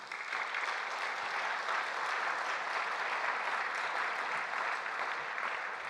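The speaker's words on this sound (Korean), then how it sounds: "여러분 박수 한번 올려드립시다" A large hall audience applauds steadily in honour of Robert Kittel, a dense, even wash of clapping that holds at a constant loud level for the whole stretch with no voices breaking through.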